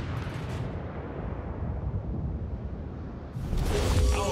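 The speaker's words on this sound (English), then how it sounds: "Battleship destroyed." A battleship is destroyed in a naval combat video game: a long, rumbling explosion roars throughout, then a sharper, louder blast bursts in near the end, with no talking.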